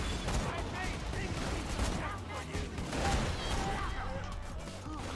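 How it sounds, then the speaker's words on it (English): Gunfire and a burst of explosive blasts in the video game Borderlands 2 crackle in rapid succession under a player's voice, dense and busy for the whole stretch. "Oh, that was explosion."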